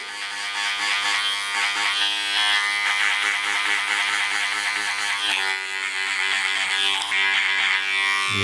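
Electric hair clippers buzz steadily and close up throughout a skin fade haircut, with the lever being worked down toward closed, the tone shifting slightly as the blade moves around the head.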